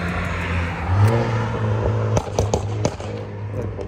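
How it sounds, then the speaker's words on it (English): A car revving as it passes on a street, its engine note swelling and fading nearby with a few sharp clicks and crackles mixed in. "And let this car go by."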